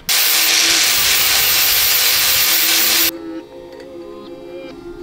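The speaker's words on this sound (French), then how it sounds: "Faut meuler encore. Meuler encore un peu." An angle grinder grinds down a metal part so it will fit in place, a loud, close, steady hissing roar for about three seconds before it cuts off and quieter rattling and clinking follow.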